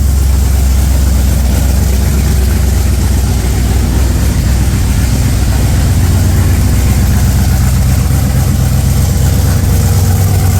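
A Ford 302 V8 fitted with a Holley Sniper 2 fuel injection system runs steadily after cranking, producing a loud, continuous, deep rumbling idle with a slightly uneven throb, heard close and alone.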